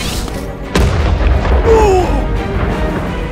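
A smart bomb goes off in an Avengers superhero battle video game. One loud sudden boom is followed by a short rolling rumble and some fainter game effects.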